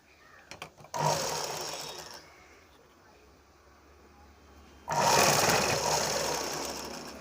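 A sewing machine stitches a blouse lining in two bursts, one short and one longer, each a close whirring hum separated by a quiet pause.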